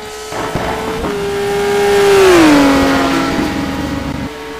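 An Aston Martin GT1 race car on Michelin tyres, run by Elite Motorsport, drives at Suzuka. Its loud, high engine note holds steady, then drops in pitch as it sweeps past. There is no talking.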